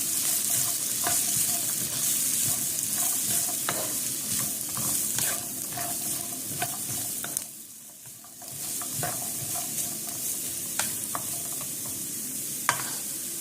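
Chinese restaurant-style fried rice stirred and fried in a hot pan, a steady sizzle with frequent spatula scrapes and clinks throughout, briefly quieting midway before the sizzling resumes.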